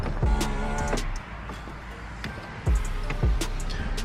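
A 1994 Toyota Hilux Surf KZN130 with a low battery is cranked over in a series of whirring, clicking starter pulses with sharp thumps, close up and steady, with no voices.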